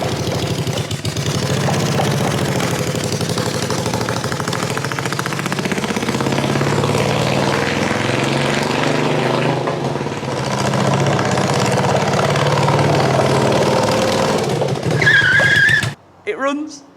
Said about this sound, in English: It is extremely loud because there's no silencer anywhere on them exhausts